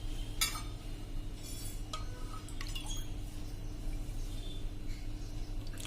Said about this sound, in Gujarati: અને આ ઘોર આપણે એકદમ મિક્સ સરસ કરી લેશું